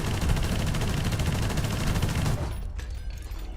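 A tank machine gun in War Thunder fires a rapid, sustained burst of close, loud shots, then cuts off sharply, leaving a quieter rumble for the final second.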